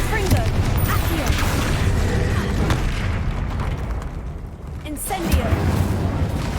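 Confringo blasting spell in Hogwarts Legacy, loud booming explosions bursting out in a couple of heavy blasts with rumbling debris, mixed with game effects and spell sounds.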